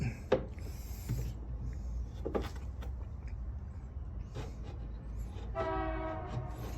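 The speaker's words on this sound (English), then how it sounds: "here comes a train" A passing train sounds its horn near the end, faint and distant, over a low steady rumble and scattered knocks from a woodworking shop during a cabinet base build.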